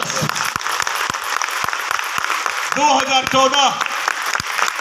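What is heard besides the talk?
audience applause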